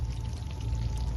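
Ghee pours into a pan of restaurant-style chicken chaap in a brief, steady, soft liquid stream heard close up.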